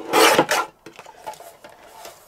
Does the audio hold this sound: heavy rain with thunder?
no